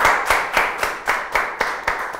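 Steady rhythmic hand clapping, about eight evenly spaced claps in quick succession, close and fairly loud, with no talking over it.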